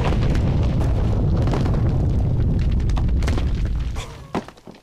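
A pig castle being destroyed in the Angry Birds Friends mobile game: a loud, dense blast of crashing, rumbling debris that holds for about four seconds, then breaks into a few scattered thuds and pops as it dies away.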